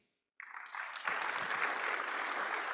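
Audience applause at a crypto conference fireside chat on the Gold Coast, starting abruptly after a brief silence and building into a dense, even patter of clapping, fairly faint overall.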